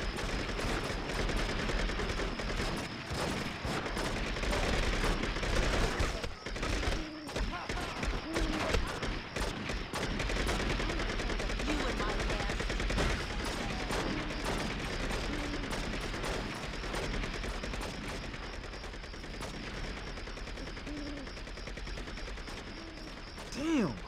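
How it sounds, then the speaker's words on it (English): A video game shootout fills the scene with gunfire, rapid shots and clattering mechanisms under a constant busy background, sustained and moderately loud, with a voice speaking over it. "We have shots fired. Repeat, shots fired."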